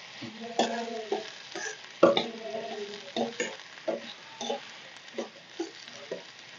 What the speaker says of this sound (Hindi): और आलू की सब्जी, भूनेंगे अच्छे से।